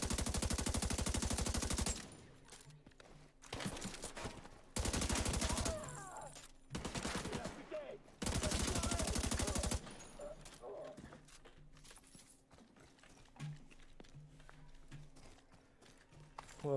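Gunfire in The Division 2 video game: long, loud bursts of rapid automatic fire alternate with quieter stretches of scattered shots and game noise, with someone talking during the pauses.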